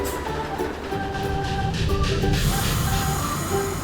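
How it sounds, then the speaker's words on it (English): A toy train rumbles past with a low steady roar and faint tonal hum, mechanical rattling underneath, fairly loud and continuous. "Red and blue train."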